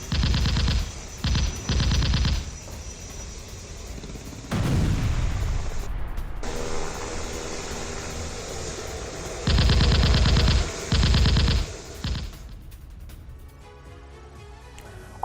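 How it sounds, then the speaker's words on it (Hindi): An Mi-35M attack helicopter fires unguided missiles in a bombing raid. Loud bursts of rapid fire and booming blasts come in separate volleys, with heavy rumbling in between. "Mi-35M हेलीकॉप्टर से भीषण बमबारी, हवाई हमले में यूक्रेन के 3 ठिकाने तबाह हो गए।"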